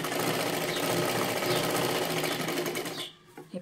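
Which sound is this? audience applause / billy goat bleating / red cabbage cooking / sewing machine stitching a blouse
sewing machine stitching a blouse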